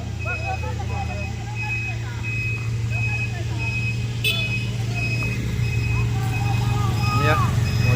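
A tronton truck manoeuvres near a crashed truck it is about to tow, its engine rumbling low and steady while a reversing beeper sounds and voices talk nearby.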